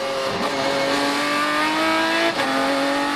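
Supercar Challenge race cars, including a Speedtech BMW Z4 silhouette, accelerating away at the start at Zolder circuit: a loud, sustained engine roar with rising pitch, a gear change near the end, and several engines layered together.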